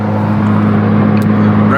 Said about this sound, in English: And now there's a car winging it around